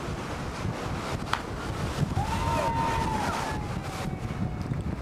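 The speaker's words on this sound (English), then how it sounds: "Just hear the waves smashing on the rocks." Waves smash against the rocks below the balconies at a cliff diving event in Polignano a Mare, Italy, a steady broad roar of surf mixed with wind buffeting the microphone, with a faint commentary voice behind it.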